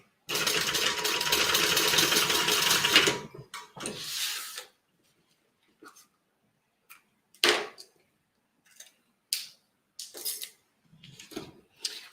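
A sewing machine stitches the bottom of a handmade bag in one steady, loud run of about three seconds, then a shorter burst follows before the rest gives way to quiet handling clicks and small knocks.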